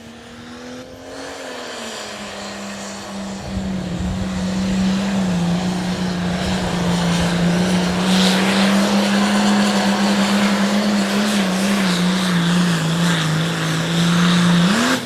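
John Deere light limited pro stock pulling tractor at an outlaw pulling event, its engine holding a loud, sustained droning roar with slight pitch wavers across the whole run, heard from a distance without talk.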